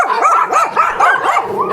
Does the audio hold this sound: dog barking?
yes